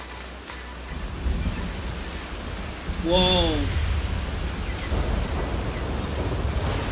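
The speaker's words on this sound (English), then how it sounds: "The heavy rain though, holy crap." Heavy rain in Zenless Zone Zero pours as a dense, loud, unbroken roar that grows stronger after a few seconds, with a short voiced exclamation partway through.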